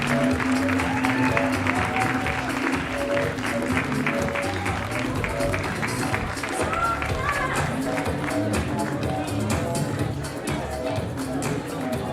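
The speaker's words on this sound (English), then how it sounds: "Big round of applause for designer Tessa O." Crowd applause at an awards show honouring a designer, a steady wash of clapping that runs throughout with music and voices mixed in underneath.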